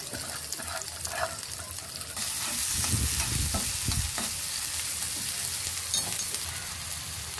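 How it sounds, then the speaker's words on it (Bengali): Chopped onion, garlic and green chili fry in hot mustard oil with a steady close sizzle, broken by scraping stirs. The sizzle swells louder partway through and continues without any talk. "এখন হচ্ছে আমি তেলে ফ্রাই করে ফেলবো। সরিষার তেল দিলাম, পেঁয়াজ, রসুন আর হচ্ছে কাঁচামরিচ কুচি।"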